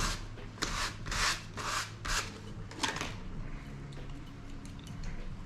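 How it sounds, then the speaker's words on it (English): Sandpaper rubbed by hand against the inside of strips, a series of rhythmic scratchy strokes in quick bursts that then fade to softer, irregular rubbing, close and fairly quiet. "Just using our trusty sandpaper again, just going to wrap up whole inside of the strips here."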